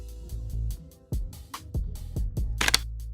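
A DSLR camera shutter fires in quick bursts on the sideline at a Wyoming versus San Diego State college football game, sharp close clicks in irregular clusters over a low hum.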